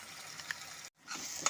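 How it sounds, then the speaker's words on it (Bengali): A spice paste of coconut, poppy seed and peanut fries in a pan with onion and garlic, a faint soft sizzle with light stirring scrapes, broken by a short silent gap. "বাটা দিয়ে আমি ভালো মতো করে মশলার সাথে কষে নেব"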